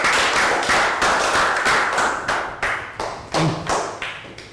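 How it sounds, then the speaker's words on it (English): Children in a Year 3 maths class clap in a round of applause, a close, loud patter of many small hands that comes in several bursts and fades between them, with no talk over it. "Round of applause."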